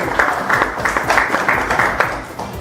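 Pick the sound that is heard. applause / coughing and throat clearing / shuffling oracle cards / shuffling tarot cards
applause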